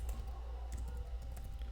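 Rapid keystrokes on a computer keyboard while entering code, a quick close burst of clicking taps with no voice over it.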